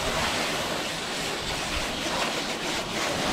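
A stream of water from a hose rinses Turtle Wax Dry & Shine rinse wax off a car's surface. The spray hisses and splashes at a steady, dense volume, close to the microphone and uninterrupted for a few seconds.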